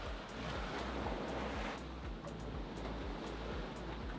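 Waves bash against a heeled-over sailboat under sail offshore in Mexico, giving a steady, loud rush of water and wind noise with rhythmic low thumps of hull impacts throughout.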